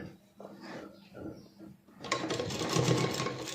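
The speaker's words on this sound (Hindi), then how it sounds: "ऐसे बराबर रखते हुए हमें एक सिलाई को लगा देना है" A sewing machine stitches a lehenga, starting after a few soft handling sounds and running in a loud, steady, rapid whir close by. A voice is heard talking before the machine starts.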